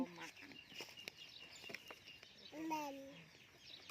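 Chickens cluck in short bursts outdoors beside a vegetable garden being watered, several quick clucks near the start and a longer rising call toward the end, faint against low background noise and distant voices.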